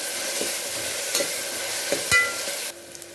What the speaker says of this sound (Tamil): வெங்காயம் போட்டோன்னே நல்லா வதக்கிக்கலாம் நல்லா ப்ரௌனாக வர வரைக்கும் வதக்கணும்